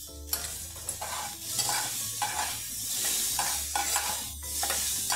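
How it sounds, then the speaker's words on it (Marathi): Chopped green chillies sizzling in hot oil while a spoon stirs them in the pan, making repeated scraping strokes over a steady crackle, close and fairly quiet with no talking. "मिरची तेलात टाका"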